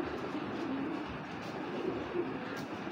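A female grizzle racing pigeon coos in soft, low, repeated murmurs, close and steady for a few seconds with faint background noise.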